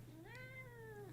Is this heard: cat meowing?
yes